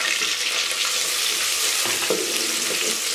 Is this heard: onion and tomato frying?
yes